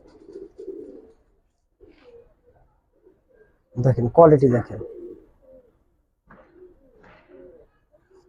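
Palla-line Giribaz pigeons in a loft give soft, low cooing in short scattered bursts near the start and end, with someone talking loudly over the middle.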